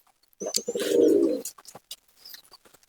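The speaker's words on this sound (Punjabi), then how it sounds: "ਬਹੁਤ ਜ਼ਿਆਦਾ ਸੁਨੱਖੀ ਕਬੂਤਰੀ ਹੈ" A female pigeon coos once, a low rolling throaty call lasting about a second, close by, followed by faint soft rustling.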